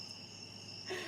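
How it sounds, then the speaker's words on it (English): Crickets chirp outdoors at night in Mississippi, a steady high-pitched trill held faint and continuous throughout, with a slight swell of broader background noise near the end. "hearing the crickets singing"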